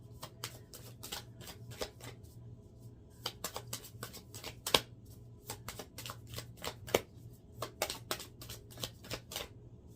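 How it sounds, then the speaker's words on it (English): Tarot cards shuffled by hand, a continuous run of quick crisp riffling slaps and flutters, close and fairly quiet, with a soft steady hum underneath. "And then let me just shuffle."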